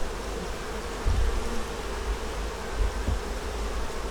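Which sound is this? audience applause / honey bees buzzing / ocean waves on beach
honey bees buzzing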